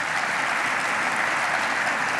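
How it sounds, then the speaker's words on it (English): An audience at a government announcement event applauds, a dense, steady wash of clapping from many hands with no pauses. "So let's give a round of applause to Greg Lensett as well."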